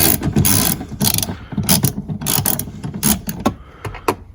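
A ratchet fitted with a 10 mm socket works loose the console bolts inside a Fox Body Mustang, giving loud, close bursts of rapid clicking separated by short pauses.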